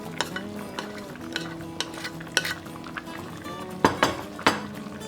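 Termite mushroom soup with green onion stirred in a pot, a utensil scraping and knocking against the metal in irregular taps, with a few louder clanks near the end over a faint background hum.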